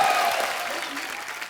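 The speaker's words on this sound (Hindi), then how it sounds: "सैमी के लिए जोरदार तालियां" Studio audience applause on a television comedy show, a brief dense roar of clapping that starts loud and tapers slightly over a second and a half, with a voice faintly audible under it.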